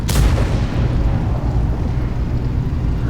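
A tank shell hitting the player's tank in the console game World of Tanks, a loud booming impact at the very start that gives way to a dense, rumbling battle roar sustained to the end.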